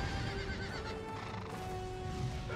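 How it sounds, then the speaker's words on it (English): Pegasus, the winged horse with flaming wings in God of War II, neighing faintly beneath a constant dense background wash of game music and noise. "Horse with flaming wings and Pegasus still popped up."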